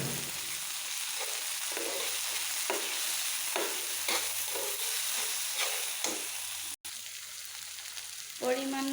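Chopped onion and tomato frying in soybean oil crackle with a constant sizzle, broken by regular scraping strokes of a spatula stirring the pan, ending with a brief sharper clatter.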